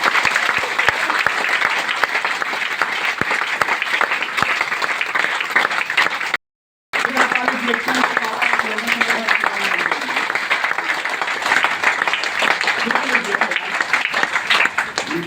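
Audience applause at a meeting: sustained, dense clapping from a crowd, steady and fairly loud throughout, with a brief gap partway through before it resumes.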